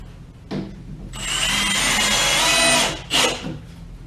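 A power drill drives Torx screws into homemade wooden hockey boards: a short burst, then a sustained loud whirring run of about two seconds, followed by another brief spin, close and without talk.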